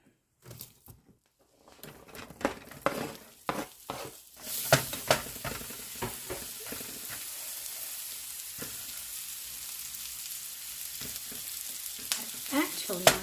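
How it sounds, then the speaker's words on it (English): Spam and onion rings fry in margarine in a skillet, a soft steady sizzle broken by clicks and scrapes of stirring, quiet and close with no talking. "I'm going to drop them in this skillet with this margarine and saute them up a bit"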